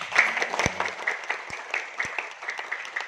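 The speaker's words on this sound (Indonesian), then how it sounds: "Tepuk tangan buat Bes." Sparse, uneven clapping from a small audience at an indoor talk, a handful of hands beating irregularly, close and moderately quiet, with a few distinct louder claps standing out.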